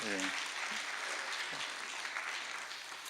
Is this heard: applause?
yes